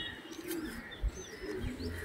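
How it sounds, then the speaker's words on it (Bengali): Domestic pigeons coo softly in a loft, with a few low throaty calls and faint chirps over a quiet background hum and no talking. "খুব সুন্দর কোয়ালিটির একটা পায়রা বন্ধুরা"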